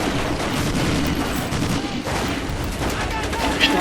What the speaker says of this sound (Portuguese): Estão atirando na gente, com certeza.